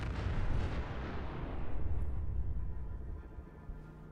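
A super mutant skirmisher blows up in Fallout 4, a heavy explosive boom that rolls into a long, loud low rumble and slowly fades.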